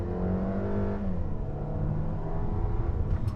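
A 2021 Mercedes-Benz GLA with an 8-speed automatic accelerating hard as its wheels slip, a steady rising engine drone heard from inside the cabin, with no speech.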